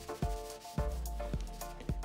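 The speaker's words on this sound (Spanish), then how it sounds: "Y ahí lo terminamos a mano." Wood sanded by hand with 80-grit sandpaper on a 2-inch-thick slab for a knock-down bench, giving repeated rough scraping strokes roughly every half second, close and fairly loud with no voices.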